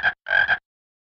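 Two short, loud frog croaks from a children's animal-sounds game app, a brief one then a longer raspy one, clean and close with silence after.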